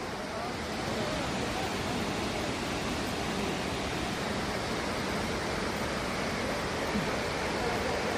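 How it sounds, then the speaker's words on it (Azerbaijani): Avyarus waterfall near Astara, Azerbaijan, roars as a loud, steady broadband rush of falling water, close and continuous with no break. "Avyarus şəlaləsinə gəlib çıxmışam"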